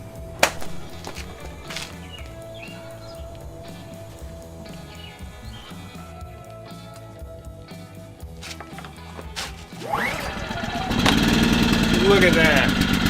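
An iPower SUA2000i inverter generator is started near the end, its engine catching and settling into a steady running hum after a quieter stretch of background noise with faint birds.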